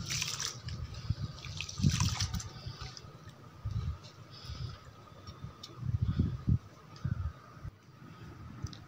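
Rice soaked overnight is rinsed in water for pongadalu batter, with gentle intermittent sloshing, swishing and trickling pulses up close against a quiet background.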